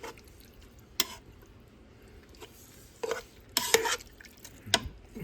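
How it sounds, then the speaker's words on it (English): Greens and beans, an Italian dish with Sicilian hot chili peppers, stirred in a pan: a few sharp scraping clatters of the spoon against the pan over a faint background, clustered near the end. "Get that all stirred in there."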